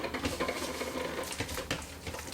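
Six room-temperature egg yolks being whisked into a chocolate mixture for mousse, a rapid, continuous patter of whisk wires tapping against a bowl, close and quiet.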